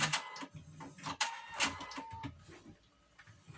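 A sewing machine stitches through heavy denim jean fabric in short, uneven bursts of mechanical clatter and ticking, close and fairly quiet, with pauses between runs.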